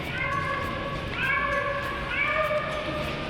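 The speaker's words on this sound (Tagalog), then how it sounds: "May pusa." A cat meowing in three drawn-out, wavering calls, close and fairly loud over outdoor background noise.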